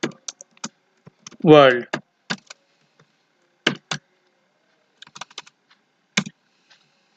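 Typing on a computer keyboard while writing C code, sparse close key taps and clacks in a quiet room, with a brief spoken word partway through.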